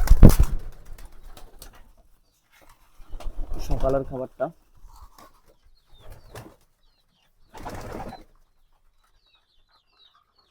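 Pigeons coo in soft low bursts while eating their morning feed on a farm where hens are also kept, with a person talking between the calls and quiet gaps.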